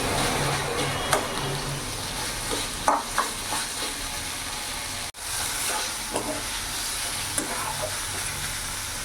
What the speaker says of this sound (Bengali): আর একটু নাড়াচাড়া করে ভেজে নেবো।